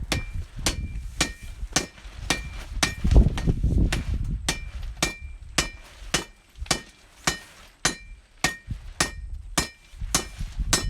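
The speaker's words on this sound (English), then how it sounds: "This is the handiest, dandiest little tool ever. It's a little cross peen." A small cross peen hammer striking hot coal-forged metal at a campground, sharp ringing blows in a steady rhythm of about two per second, close and clear over low rumbling background.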